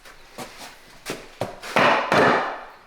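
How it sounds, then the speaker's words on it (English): Hammer blows under a bathroom floor, a series of sharp, uneven knocks that grow heavier and louder, the last two ringing out as strong thuds with rattling decay. "No, I need a hammer."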